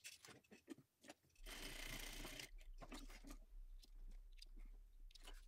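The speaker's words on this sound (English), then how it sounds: "Now I'm going to go to my sewing machine and I'm going to top stitch across or edge stitch across this" A sewing machine edge-stitches across a fabric fold on a crossbody bag in one loud, close burst of about a second, framed by soft handling clicks and rustles.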